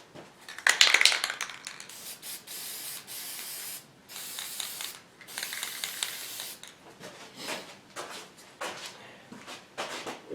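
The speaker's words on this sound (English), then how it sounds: "Trying to spray paint the whole board, just down in the holes there" Bursts of hissing spray from a spray paint can onto a wooden skull mount plaque, several long and short sprays with brief pauses, close and moderately loud, with no voices.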